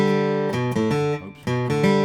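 A steel-string acoustic guitar plays a short bluegrass G run in 3/4 time: a few clear, close single notes in quick succession, ringing alone with a brief dip in the middle.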